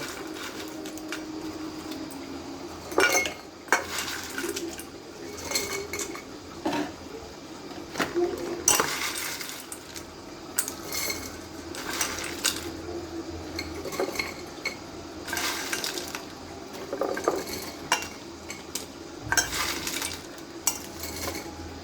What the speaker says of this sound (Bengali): এখন আমি মশলাগুলো বয়মে ভরে নেব